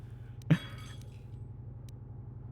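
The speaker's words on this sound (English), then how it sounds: "I hear someone like shattering a bunch of glasses in this cantina wherever we are" Glass shatters once in a sharp, bright crash inside a cantina in the video game Knights of the Old Republic, set against a steady low ambient hum and followed by faint lingering tinkles.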